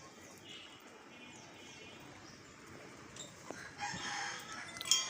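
Native chickens in a yard, with faint clucking and a rooster crowing toward the end over a quiet outdoor background.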